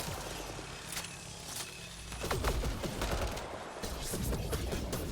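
Rapid bursts of gunfire in the video game Mass Effect Andromeda, a fusillade of sharp repeated shots in clusters over a constant mechanical background, fairly faint overall with no clear talk.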